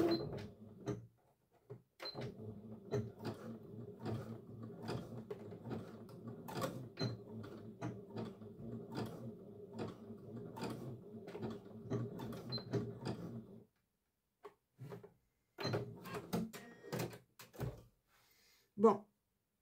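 A domestic sewing machine running a tight, dense zigzag stitch, giving a steady close mechanical chatter for about fourteen seconds, then short start-stop bursts, with no talk over it.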